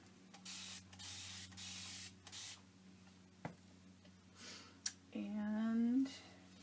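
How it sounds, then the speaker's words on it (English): Several short hissing bursts of a spray bottle spraying paint onto art journal pieces, spaced apart, followed by a brief squeaky scrape and a sustained rushing spray. "I'm going to spray them."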